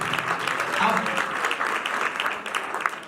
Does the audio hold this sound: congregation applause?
yes